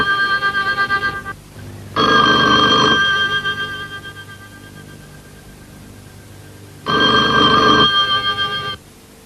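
Telephone bell ringing in loud, buzzing electric bursts: a steady trilling ring, then a lower rattling tone, with another full ring near the end, close and alone without voices.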